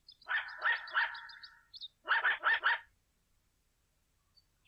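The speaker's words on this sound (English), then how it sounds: "Henry, I just couldn't be mistaken about that bark." A dog gives two quick bursts of sharp, high yapping barks, a run of about four followed by three more, fairly close and loud, then silence.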